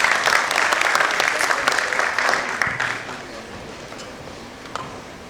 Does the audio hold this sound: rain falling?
no